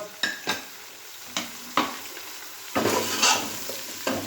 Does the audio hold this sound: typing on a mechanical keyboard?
no